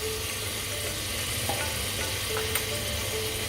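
Garlic ginger paste fries in a pot with mutton for patvelia gosht, a dense and even close sizzle with a couple of faint clicks and no speech.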